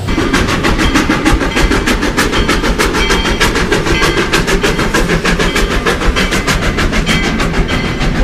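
A toy train rattles along steadily with a fast, rhythmic clickety-clack throughout, loud and close, with no voices.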